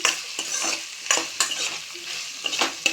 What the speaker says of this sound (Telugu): క్యాప్సికమ్ వేసుకుంటే ఏంటంటే ఆయిల్లో మంచిగా ఉడుకుతుంది చూడండి